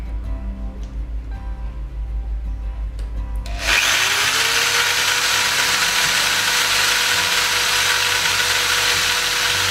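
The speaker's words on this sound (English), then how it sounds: "it's such a large drill bit, it was catching and then just shattering the pipe" A low ratcheting mechanical clatter gives way to a loud, steady power drill whine as a large drill bit grinds through plastic pipe for several seconds.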